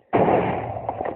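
A TNT cannon in the Minecraft video game fires with one sudden, loud blast that opens into a dense, sustained rumble, with a few fainter pops trailing through the rest of the moment.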